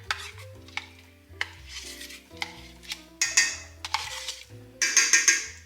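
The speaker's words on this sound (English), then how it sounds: "mix this together" A spoon scrapes and knocks through cornbread batter mixed with sour cream in a bowl, giving a string of sharp clicks and wet scrapes over quiet background music, with no talking.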